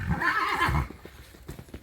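A mare whinnies loudly and close for under a second as she is led and breaks loose, then a few soft thuds and shuffling sounds follow.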